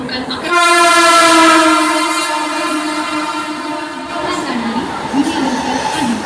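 A train sounds a loud, sustained horn as it pulls into a station platform, then rumbles and rattles steadily along the tracks, close and heavy.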